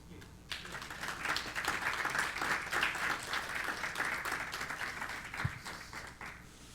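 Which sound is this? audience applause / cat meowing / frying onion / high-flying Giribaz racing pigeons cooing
audience applause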